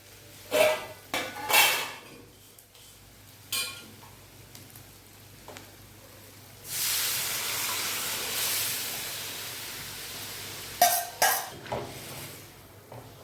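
Boiled tadka dal is poured into a hot pan for a dhaba-style egg tadka, setting off a steady sizzling hiss lasting several seconds, with clinks of a utensil against the pan before and after.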